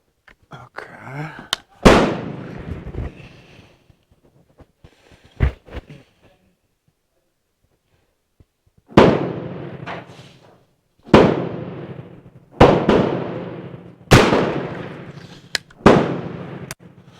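A Werndl 1867/77 rifle fired outdoors with smokeless loads: loud, sharp single reports with ringing decay, several spaced shots, a few fainter pops and handling noises between them.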